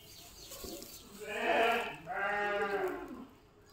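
Sheep and goats on a sheep farm bleating near the microphone, a couple of drawn-out calls in a row over quiet surroundings.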